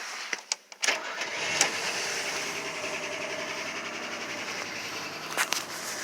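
An old 4WD truck engine, losing oil, cranks with a few sputters, then catches and settles into a steady rumbling idle, close by with no talking.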